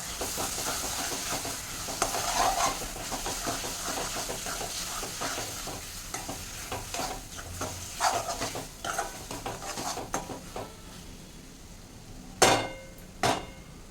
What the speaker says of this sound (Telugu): ఇది ఇప్పుడు మిక్స్ చేసుకుందామండి.